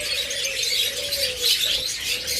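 Caged budgerigars, forpus parrots and lovebirds chirp and twitter in a dense overlapping chatter, with a thin sustained whistle running beneath; close and busy throughout.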